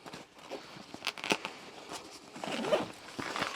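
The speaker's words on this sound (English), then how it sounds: "you can zip up individually and have access through the top portion there" A zipper runs along the side panel of a Manfrotto Pro Light camera backpack, a few close, quiet pulls and rasps with light handling rustle between them.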